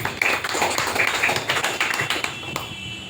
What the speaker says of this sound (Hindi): तो मैं चाहूँगा सर के लिए एक बार जोरदार ताली।